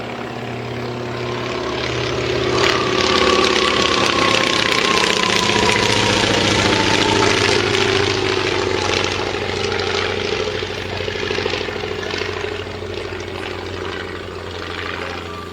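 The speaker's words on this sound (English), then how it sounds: "the famed Fokker DR-1 triplane" A steady, droning Fokker Dr.I triplane rotary engine with a throaty propeller roar, loud and continuous throughout, swelling slightly early and easing a little later.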